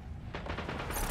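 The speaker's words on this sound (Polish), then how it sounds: "takie strzały to chyba Pike tylko." A rapid burst of gunfire in Destiny, several quick shots in a row, fairly faint and muffled.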